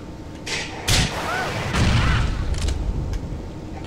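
A GTA IV explosion on the Xbox 360 in The Lost and Damned, a sharp bang followed by a heavy rumbling boom with bursts of gunfire-like cracks, loud and close, amid game noise.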